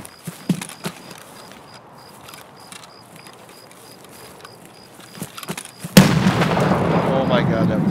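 Grenade blast in Escape From Tarkov erupts suddenly and loudly after a quiet stretch of sparse footsteps and faint shots, leaving a sustained rumbling roar.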